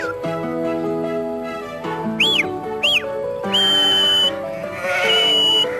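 Sheep bleat in drawn-out, wavering calls while a kelpie herds them on a farm, with sharp rising and falling whistles and sustained high whistle tones cutting in partway through.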